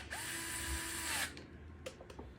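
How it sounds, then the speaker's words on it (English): A power screwdriver driving screws into the grill of a 2004 Lakewood 9-inch high-velocity wind machine fan (model HV9C), running at partial speed with a steady motor whine for about a second, then stopping, followed by a couple of short clicks. "I'm not really going full power on this screwdriver because I don't want these screws to strip out"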